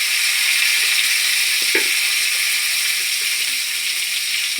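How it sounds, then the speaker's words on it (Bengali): A small tomato drops into hot oil already fried with black cumin, setting off a loud, steady hiss of sizzling with a brief spatter, close up and with no voices. "এখন আমি একটা ছোট টমেটো তেলের মধ্যে দিয়ে দিলাম।"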